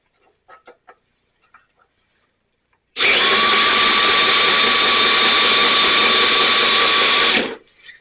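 After a few faint ticks, an electric drill hooked up to a Toro 22-inch Recycler mower under repair whirs loudly and steadily for about four seconds, then spins down and stops.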